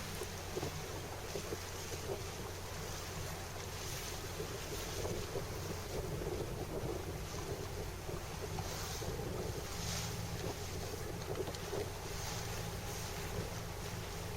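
Steady wind buffeting and waves washing around a sailboat during a gybe on a broad reach, a continuous outdoor roar with microphone wind noise and no talking.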